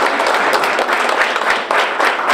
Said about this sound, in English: How about a round of applause for our principal?